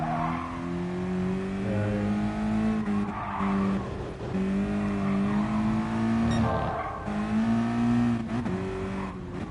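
A Mazda Miata engine hums steadily while driving in Gran Turismo Sport, its droning tone rising and falling through gear changes and throttle lifts, with occasional tire squeal, close and continuous with no talking.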